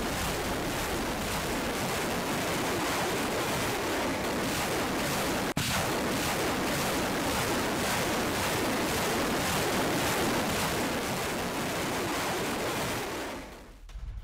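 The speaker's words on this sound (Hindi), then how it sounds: "अब यूक्रेनी एमएलआरएस से अंधाधुंध फायरिंग" Ukrainian MLRS rocket artillery fires at Russian positions, making a continuous distant roaring rumble with one sharp crack partway through. The roar holds steady for a long stretch before trailing off.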